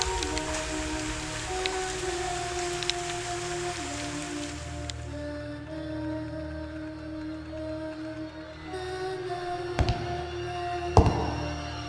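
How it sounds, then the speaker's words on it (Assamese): Rain falls at night with a steady, soft hiss that stays even throughout, and a few sharp knocks near the end. "বৰষুণ আহিছে"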